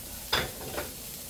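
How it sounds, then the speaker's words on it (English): Steaks for pepper steak sear in a hot pan with a steady sizzle. Two short bursts of scraping or stirring break through the hiss, heard close up with no talking. "Let's put in our steaks."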